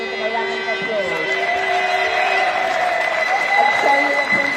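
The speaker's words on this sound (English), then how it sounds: "I want everybody here to give them a round of applause" Applause and cheering from a crowd at a Unite union rally in Birmingham, honouring bin workers, a steady mass of clapping over a few seconds, with shouts and voices mixed in outdoors.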